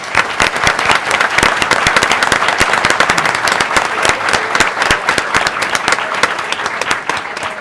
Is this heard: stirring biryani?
no